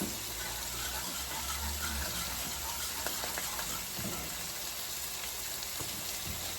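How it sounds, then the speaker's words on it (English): A whisk stirs milk heating toward a soft boil in a pot on the stove for queso, giving a steady, continuous scraping and bubbling hiss, close and even throughout, with no voices. "I'm going to keep whisking"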